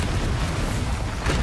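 Bombarda explosion spell in Hogwarts Legacy, a short, loud, booming blast with a dense rumbling roar filling the moment.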